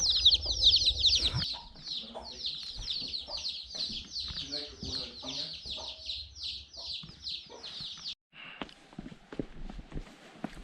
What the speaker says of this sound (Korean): 병아리와 닭들.